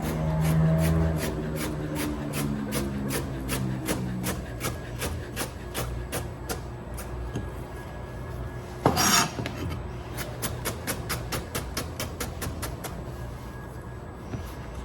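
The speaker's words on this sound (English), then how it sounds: "cut them into thin strips like this" A knife slices vegetables into thin strips on a board in quick, evenly spaced taps, close and steady, with one brief louder clatter partway through and no talking.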